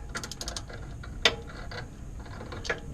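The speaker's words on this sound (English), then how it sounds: "take your socket wrench and put it on after the fact" Socket wrench clicking on a differential fill plug of a C6 Corvette Z51 limited-slip diff: faint, scattered ratchet ticks with one sharper click near the middle and another toward the end, quiet and close.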